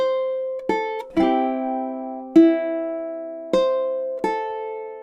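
A ukulele plucks a short phrase of single sustained notes, about six clear attacks ringing out one after another, close and alone with no talk.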